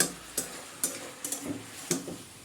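Egg and potato curry simmering in a pot, with a soft bubbling hiss under scattered light clinks and ticks that come every half second or so, quiet and close.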